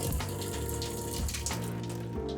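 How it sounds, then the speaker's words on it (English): Cold water runs steadily from a camper sink faucet, a constant close rushing hiss with faint shifting tones underneath. "that's our cold water in the sink"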